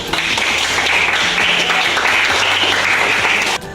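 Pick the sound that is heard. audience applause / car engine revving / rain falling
audience applause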